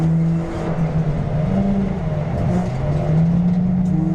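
Ford Fiesta Zetec race cars at the Leinster Trophy race, engines droning loudly and steadily down the straight, with pitch rising and falling as they accelerate close by.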